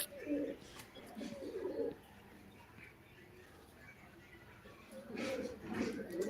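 Pigeons of the Aklia Jalal breed in a rooftop flying hobby coo in soft, low bursts, one near the start and another toward the end, with faint quiet in between.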